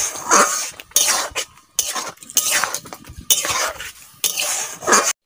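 Ripe mango being stirred in a pan, with repeated scraping and clinking strokes in short uneven bursts separated by brief pauses.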